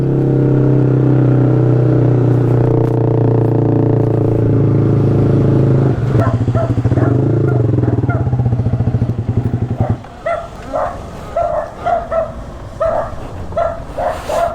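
A motorcycle engine with a stuck brake roars loudly and steadily up close, then cuts out, leaving a dog barking repeatedly in quick bursts.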